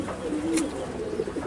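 A kentong pigeon coos close by, giving a few soft, wavering low calls over light background noise within a brief moment.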